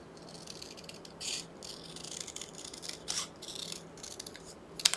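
Scissors cutting paper for a junk journal card craft, several quiet separate snips and rustles against a faint background hum.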